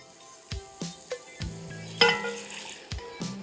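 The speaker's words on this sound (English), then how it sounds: "we're gonna deglaze the pan with" Wine poured into a hot osso buco pan to deglaze it: a string of sharp metallic scrapes and clinks over a soft sizzle, one louder clatter in the middle.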